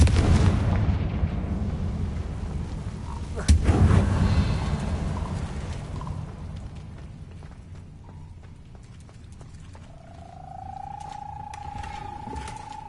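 Confringo fire spells from Hogwarts Legacy, several heavy blasts and bursts over the first few seconds, loudest around the middle, then fading into quieter ambience with a sustained tone.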